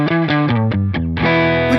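Electric guitar played through a Line 6 Helix with no compression, EQ, reverb or delay, a loud, distorted riff of short choppy notes that gives way to a sustained ringing chord, with no talking.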